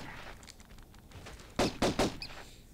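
Gunshots from the Tomb Raider 1 video game, set in the caves and city of Vilcabamba, with a quick burst of three sharp shots near the end after quieter game sounds, loud and close.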